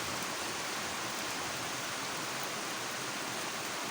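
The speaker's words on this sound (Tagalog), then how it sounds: "dito sa amin, umuulan na po." Steady rain falling outdoors, a dense even hiss with no distinct drops, continuous and fairly soft throughout.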